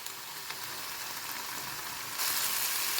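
Chicken breast pieces frying in a pan for samosa filling, giving a steady, bright sizzle that swells a little louder near the end, with no talking.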